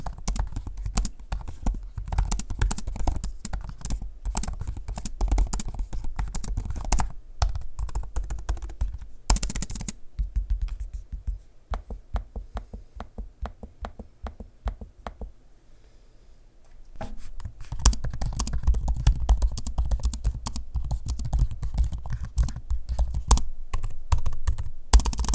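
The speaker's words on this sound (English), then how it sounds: "I'm gonna give you an audio sample of me using both keyboards and trackpads so you can hear for yourself." Typing on the keyboards and trackpads of Samsung Galaxy Book4 Edge laptops, a close, rapid clatter of keystrokes. Clicks turn sparse and slower midway, with a brief quiet lull, before steady fast typing resumes.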